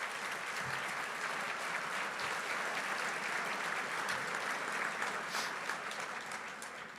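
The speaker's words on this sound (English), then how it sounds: "So let's give them a round of applause." Gala audience applauding school administrators at an anniversary celebration, a dense, sustained round of clapping filling the hall at steady loudness for the whole stretch, tapering slightly at the end.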